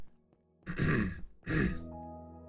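Two harsh throat clearings, one after another, close and loud, separated by a short pause.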